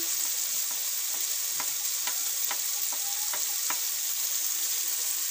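Spices fry and roast in a pan with a steady, close sizzling hiss, broken by soft periodic ticks of stirring.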